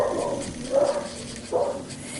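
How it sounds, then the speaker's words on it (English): Pet dogs indoors give a couple of short, whiny whimpering yips, two brief bursts with a quieter gap between, mid-distance over room hiss. "The dogs are freaking out."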